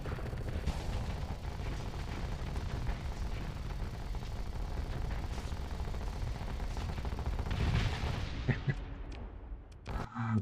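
Hammer Barrage weapons firing in the modded space combat game Starsector, a dense sustained barrage of booming, crackling blasts that rolls on for several seconds, loud and close, then thins out with scattered impacts at the end.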